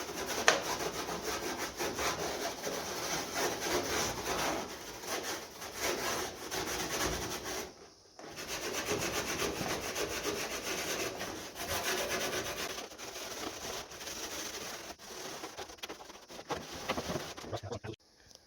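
Continuous rough scrubbing of an old metal gas station sign with SOS steel wool pads, close and steady with strokes in a regular back-and-forth rhythm and a couple of brief pauses.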